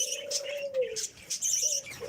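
A pet bird makes short chirps and soft cooing calls in a few close, fairly loud bursts, and no one speaks.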